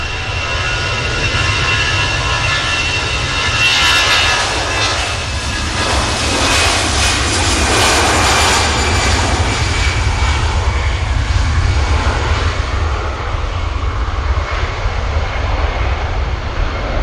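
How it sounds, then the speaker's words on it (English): An EasyJet airliner's jet engines roaring on takeoff at Manchester Airport, a loud sustained rumble with a high whine that builds and peaks midway, then holds steadily, alone without voices. "Here goes the EasyJet. I think this is the Mahon flight."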